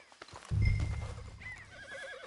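A horse in Red Dead Redemption 2 lets out a loud, close neigh lasting about a second, trailing off into softer snorts and a shaky whinny, with faint hoof clip-clops around it.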